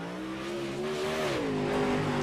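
A race car engine revs in an iRacing dirt series game at Cedar Lake Speedway, a steady buzzing engine note rising and dipping in pitch as it builds, fairly close and alone without talk.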